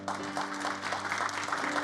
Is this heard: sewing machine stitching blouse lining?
no